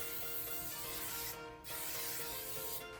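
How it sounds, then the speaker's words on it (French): A can of shine hair spray hisses in long continuous bursts onto hair, close and steady, with a brief pause between sprays. "je vais utiliser un spray brillant pour donner un peu d'éclat"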